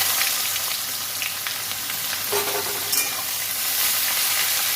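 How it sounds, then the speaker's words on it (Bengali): Onions fry with whole cinnamon, cardamom, cloves and black pepper in a pan for mutton curry, giving a steady close hissing sizzle with occasional stirring scrapes and no talking. "পেঁয়াজটা একটু লাল লাল করে ভেজে নেব।"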